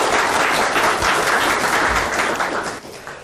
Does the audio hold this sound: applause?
yes